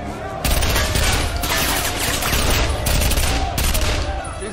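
Sustained gunfire from a prison movie scene, a loud, dense fusillade of rapid shots filling the whole stretch, with brief gaps between bursts and a faint voice buried underneath.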